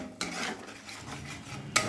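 Spice paste for a vegetarian moong dal curry being stirred and fried in a pan, mostly soft scraping and rubbing of a spoon against metal, with clinks at the start and end.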